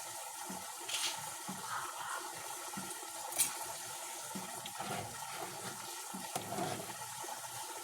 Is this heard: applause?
no